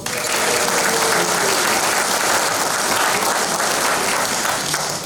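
Steady, full applause from a large audience at a carnival jubilee session in a hall, sustained and loud with no talk over it.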